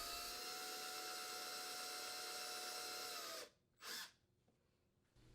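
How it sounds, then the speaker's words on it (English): A power drill runs steadily while a 3/32 inch bit pre-drills pilot holes for a dishwasher custom panel, a constant whine that cuts off, followed by a short second burst and quiet. "Using a 3/32" drill bit, pre-drill the 4 pilot holes."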